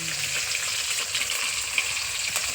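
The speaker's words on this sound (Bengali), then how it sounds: "আর এই যে এখানে মাছগুলো ভাজছি" Bata fish frying in a pan of oil, a steady close sizzle and crackle with small pops throughout, no speech.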